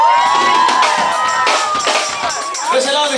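Crowd cheering, whooping and applauding at a live regional band performance, loud and close, with shouts over continuous clapping while a band member is introduced.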